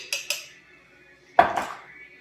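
A metal utensil clinks twice against a pot of chicken stew, then scrapes around inside it once, close and distinct, with quiet gaps between.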